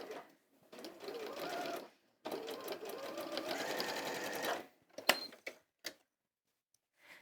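A sewing machine stitches pleats on a clutch purse in two steady runs of rapid mechanical whirring, followed by a few short clicks and taps as the machine stops.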